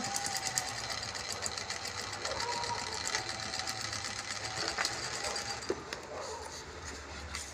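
A sewing machine stitches seams on a jute bag, running as a steady mechanical whir with faint rhythmic ticking throughout, fairly quiet, with low talk in the background.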